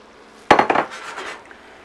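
Shrimp tossed in a boiling pot give a sudden metallic clatter and rattle, a burst of clinks that fades out over about a second.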